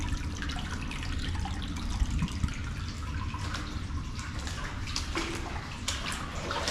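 Water from an artesian well runs in a cool tunnel, making a steady rushing, splashing flow with small drips, continuous and fairly close.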